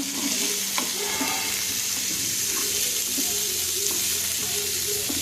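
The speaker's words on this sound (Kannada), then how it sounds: "ಕರಿಬೇವು ಮತ್ತು ಇದನ್ನು ಹಾಕಿ ಫ್ರೈ ಮಾಡಿದ್ದೇನೆ" Curry leaves frying in oil in a pan for chicken sukka give a continuous close sizzle, with occasional stirring scrapes and light clicks of the spoon.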